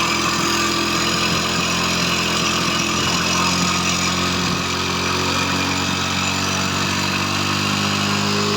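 A fully warmed-up motorcycle engine idles close by, a loud, steady, even mechanical drone that runs unbroken throughout with no talk over it.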